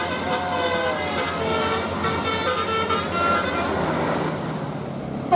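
An Indonesian bus blares its Basuri telolet musical horn, thin tones sounding under a dense wash of traffic and engine noise, with a crowd of voices mixed in.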